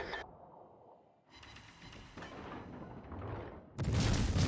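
Naval gunfire in a warship battle game, a heavy booming salvo with rumbling whoosh and a second loud blast near the end, no talk.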